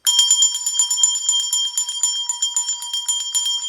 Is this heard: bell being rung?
yes